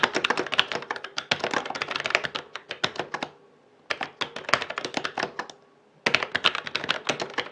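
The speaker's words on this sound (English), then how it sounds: "This is a test of Logitech's G613 Lightspeed wireless mechanical keyboard using Romer G switches." Brisk typing on a Logitech G613 Lightspeed wireless mechanical keyboard with Romer-G switches, in rapid bursts of clicky keystrokes, with two short pauses between runs, close and clear.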